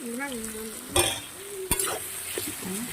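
Potatoes and lentils fry in a pan while a spoon stirs them, giving a soft sizzle with a few scraping clinks against the pan and a faint hum in the background.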